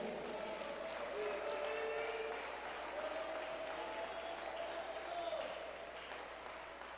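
A congregation claps hands during a Spanish-language church service, a faint, continuous patter of clapping heard at a distance beneath sustained tonal sounds.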